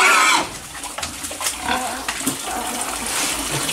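A sow in heat in a pen grunts and squeals continuously, with rough, noisy calls that stay loud throughout and sharper cries near the start.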